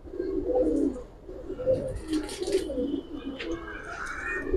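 Several pigeons in a dim loft coo in repeated low, throaty bursts close by, rising and falling over a few seconds with some rustling, no speech.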